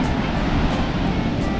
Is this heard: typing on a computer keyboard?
no